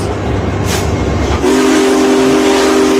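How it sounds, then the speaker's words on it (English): A Big Boy steam locomotive pulling into St. Louis Union Station gives a loud, close rumble, then a sustained steady whistle or horn tone takes over the second half. "A majestic steam locomotive pulling into St. Louis Union Station."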